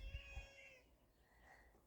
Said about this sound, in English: This is my cat Luna coming in to visit.